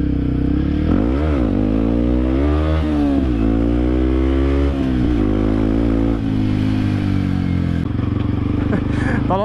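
A Yamaha WR motorcycle fitted with an RSS standard exhaust is revved hard again and again, its deep booming note rising and falling loudly up close while people talk over it.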